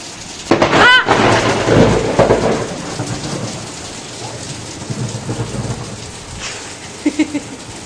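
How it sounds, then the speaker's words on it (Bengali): Heavy rain pours steadily outside a window near the Sundarbans while thunder cracks and rumbles loudly near the start, followed by continuous rain hiss and a few faint knocks, with no talking. "শুনতেই পাচ্ছ তোমরা, বাজ পড়ছে"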